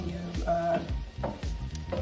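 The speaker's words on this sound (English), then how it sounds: "when you're stir frying, you stir fry on high flame" Food sizzles loudly in a hot pan over a high flame while a utensil clanks and scrapes in quick, uneven strokes as fried rice is stirred.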